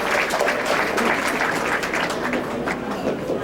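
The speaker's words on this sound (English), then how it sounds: "please let's have a big round of applause" An audience at a fundraising dinner applauds steadily, a dense, loud wash of clapping from many hands that holds evenly throughout.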